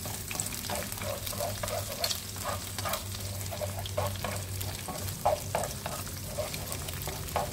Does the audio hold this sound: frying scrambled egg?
yes